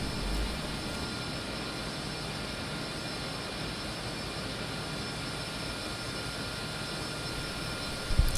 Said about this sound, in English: You guys can probably hear the noises of my GP running